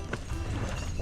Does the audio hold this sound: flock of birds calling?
no